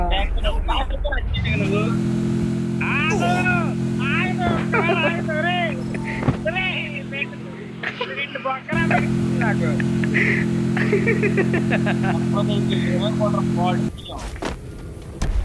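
A car in the Free Fire video game drives with a steady low engine hum that cuts out briefly and resumes, while a person talks continuously over it.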